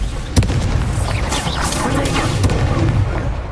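Fire spell cast in the video game Hogwarts Legacy: a sharp burst near the start, then a dense, roaring whoosh of magical flame and crackle filling the short clip, loud and close, with faint game voices underneath.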